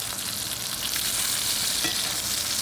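Butter sizzles with oil around a ribeye steak in a cast iron pan, a loud, steady frying hiss with faint spoon scrapes throughout.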